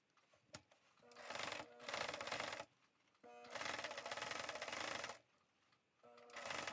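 Sewing machine running in several bursts of rapid stitching, pausing briefly between runs as it sews back and forth on a gathered tulle skirt, close and steady with no talking.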